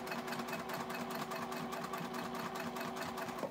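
A Juki sewing machine runs fast topstitching, a close steady whirring with a quick even needle rhythm throughout, alone without voices.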